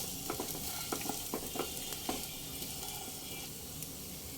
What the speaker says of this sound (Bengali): ভাজা জিরে গুঁড়োটা আবার একবার ভালোভাবে নেড়ে দেব